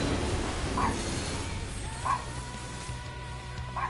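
A dog in the video game Final Fantasy XIV gives three short, high yips spaced over a few seconds, above a steady background of game ambience.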